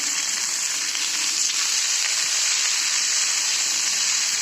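Fenugreek greens cooking in a hot pan, giving a steady, even sizzle and hiss with little variation and faint stirring, close by and without any talking.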